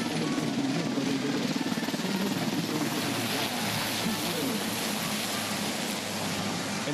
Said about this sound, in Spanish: helicópteros de la Policía Nacional del Perú.